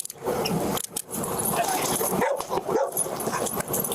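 A dog barks and makes short yips as it gets out of a car during a roadside stop by federal agents, with the sounds mixed into people talking nearby.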